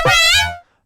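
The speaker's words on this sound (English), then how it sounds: "first I'll show you the metallic sort of laser that I got going for me." Bright metallic laser synth tone built with Sytrus FM, a single sharp zap rich in ringing overtones that falls away within about half a second, loud and isolated.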